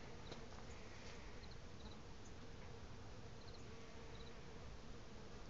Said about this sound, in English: Those are leafcutter bees.